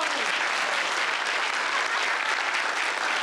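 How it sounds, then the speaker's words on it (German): An audience applauds a young man on stage, a dense, steady burst of clapping that stays loud from start to finish. "Applaus für den jungen Mann"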